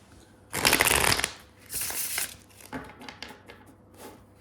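Tarot cards being shuffled by hand: a loud, crisp riffle burst followed by a second shorter shuffle, then soft scattered taps and slides of the deck, close up with no talking.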